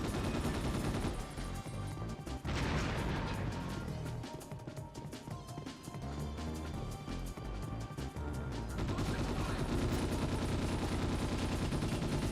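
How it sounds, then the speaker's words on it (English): Rapid gunfire from the video game Destiny, a sustained barrage of shots layered over dense game music and effects, loud and continuous throughout with brief bursts of heavier impacts. "I knew they were gonna start shooting"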